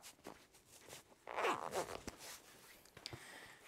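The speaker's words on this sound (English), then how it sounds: "make sure nothing gets caught in the zipper" A zipper on a packing cube full of clothes is pulled closed in a quick, close, quiet rasp that swells and fades over about a second, with soft handling noises around it.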